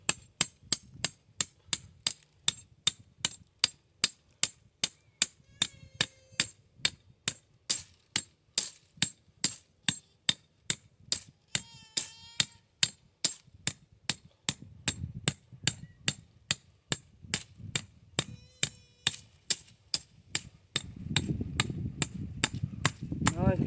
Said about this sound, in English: Just hammer it in.